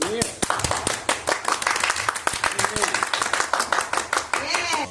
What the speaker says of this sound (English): Put your hands together and give Jesus a hand of praise.